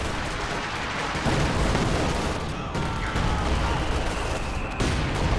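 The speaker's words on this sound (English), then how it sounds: "Priest barrage going off on these infantry over here." A Priest artillery barrage in Company of Heroes pounds away as a dense, continuous rumble of shell impacts and gunfire, loud and close, with rapid overlapping blasts and no speech.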